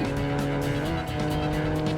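Engine roar and tire noise from a car driving section in the video game James Bond 007: Agent Under Fire, built on a Need for Speed engine, form a loud, continuous drone with steady engine hum and no talk.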